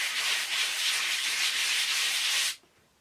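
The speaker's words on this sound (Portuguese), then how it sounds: "nós lixamos em movimentos circulares" Sandpaper rubbed in circular motions over acrylic-primed MDF, giving a steady, close, bright scratchy hiss for about two and a half seconds before stopping abruptly.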